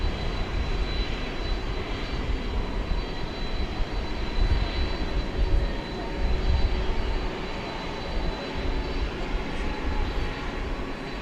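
An American Eagle Embraer E-jet landing at DFW Airport, a steady low jet rumble and rushing engine noise with slight swells in loudness.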